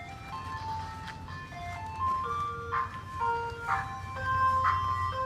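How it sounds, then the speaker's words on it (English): An ice cream truck's electronic jingle plays a simple tinkling melody outdoors at moderate distance, over a low rumbling engine, with no talking. "the ice cream man is coming."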